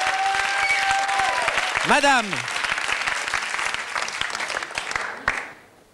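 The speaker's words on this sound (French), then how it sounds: "Un petit peu d'applaudissements, ça fait pas mal, ça réchauffe" Audience applause warming up a room at a participatory show, steady clapping under a host's voice, with a sliding whistle-like tone briefly cutting through before the clapping thins and drops away at the end.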